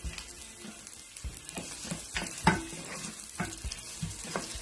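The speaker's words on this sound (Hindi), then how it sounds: "जैसे ऑयल गर्म हुआ, ये जो मैंने ब्लैक पेपर अनियन में मिक्स किया है वो मैं इसमें डाल दूँगी" Onion mixed with black pepper fries in hot oil, a soft continuous sizzle broken by repeated scraping stirs of a spoon against the pan, close and moderately quiet.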